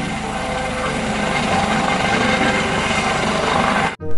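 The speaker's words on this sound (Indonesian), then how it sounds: "Ini helikopter polisi." A police helicopter in the Metal Slug video game gives a steady, loud mechanical rotor drone that runs continuously, then cuts out abruptly near the end before resuming.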